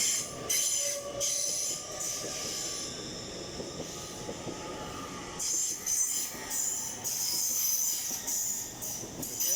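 An LNER train on the Edinburgh to London King's Cross service moves through Durham station, its wheels squealing loudly in repeated bursts over a rumbling, clacking roll.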